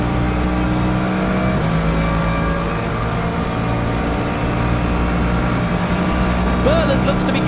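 GT3 race cars in Le Mans Ultimate run flat out down the Fuji straight, a steady, loud engine drone holding throughout with a brief rising whine near the end, mixed with commentary talk.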